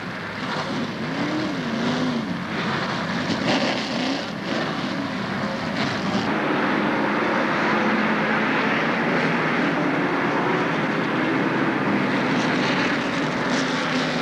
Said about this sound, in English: the command has been given to start the engines